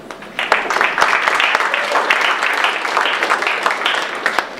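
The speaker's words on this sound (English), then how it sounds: "can we have a round of applause for Matt?" An audience at a startup business-development keynote applauds the speaker, a dense wash of many hands clapping together at a steady level, with a few louder individual claps standing out.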